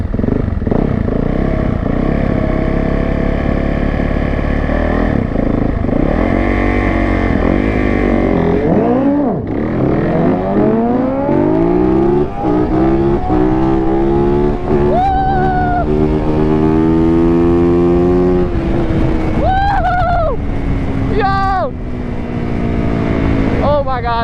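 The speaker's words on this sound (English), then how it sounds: "I'm racing this fast ass GSX" A Yamaha YZ450 dirt bike races a Suzuki GSX motorcycle down a drag strip, engines roaring loud and close with rising revs through repeated gear shifts, the pitch climbing and dropping, and a voice talking over the noise.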